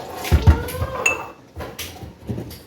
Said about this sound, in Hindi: यहाँ पे ज़ैनब हेल्प कर रही हैं अपनी खाला जानी की किचन में, चाय निकालते हुए